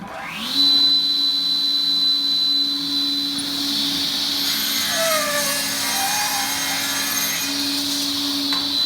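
A power saw spins up and makes the final cut on a web frame, a loud steady motor whine that holds throughout with a rough cutting texture in the middle.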